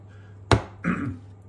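Wavy cutter pressing through cold, stiff shortbread dough: one sharp close thud followed by a softer dragging cut, over a steady low hum.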